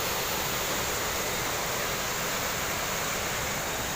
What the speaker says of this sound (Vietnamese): Mưa vừa mới tạnh nha. Xong là nước đang chảy về to.